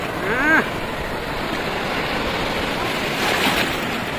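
Surf rolls and crashes steadily on Bakkhali beach, close and fairly loud, with wind rushing across the microphone and a brief swell at the start.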